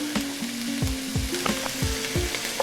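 Onions sizzle and fry steadily in a pan as they are sautéed for a chicken cream sauce with sun-dried tomatoes, with repeated scraping stir strokes and light clinks over the constant hiss.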